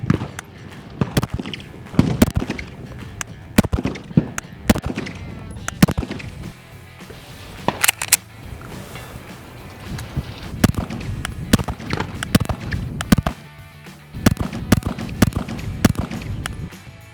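A Canik TTI Combat pistol with compensator fired at an outdoor range, sharp loud shots in irregular strings and pairs, each with a short echoing tail, no talk.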